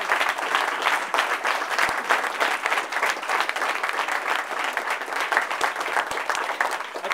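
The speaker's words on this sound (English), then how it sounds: "Let me ask all of you to stand up and applaud for Mike Honda." A standing audience at an Asian American political fundraiser gives Mike Honda sustained applause, with many hands clapping steadily in a full room and a few sharper claps standing out.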